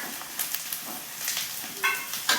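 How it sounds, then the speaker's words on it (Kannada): Chopped carrots and onions fry in oil with a soft, crackling sizzle, punctuated by a few light stirring clicks and scrapes, fairly quiet throughout. "ಈ ಕ್ಯಾರೆಟನ್ನು 1 ನಿಮಿಷ ಎಣ್ಣೆಯಲ್ಲಿ ಫ್ರೈ ಮಾಡ್ಕೋಬೇಕು ಚೆನ್ನಾಗಿ"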